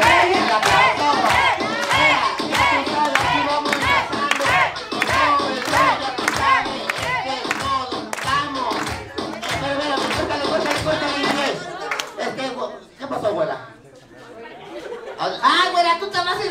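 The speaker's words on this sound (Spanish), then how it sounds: "vamos a despedir con un bonito aplauso a mi amiga Fátima, que ella se lo merece." At a clown show event, an audience shouts and cheers loudly while clapping in rhythm, with voices all through it and a brief lull near the end before the noise picks up again.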